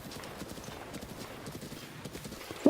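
Rhythmic hoofbeats of a horse trotting in Zelda: Breath of the Wild, a steady clip-clop pattern close and moderately loud, ending with a brief snort or neigh.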